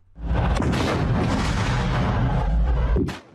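Rocket strikes on tanks in Gaza combat footage: one loud, sustained explosive roar that lasts about three seconds and then cuts off sharply, heard alone without speech.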